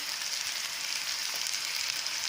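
Carrots, green chilies and other vegetables fry in hot oil over a high gas flame, a constant bright hiss and crackle of sizzling, close and unbroken.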